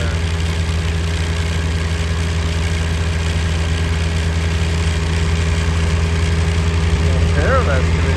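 Excavator engines idle and rumble on a dirt-moving job site, a steady loud low drone with continuous vibration and a voice speaking over it.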